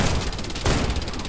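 Rapid gunfire from a DP-12 shotgun in a Warface team deathmatch on the Hangar map: dense, continuous bursts of shots with a heavier blast midway, loud and close, with no talk over it.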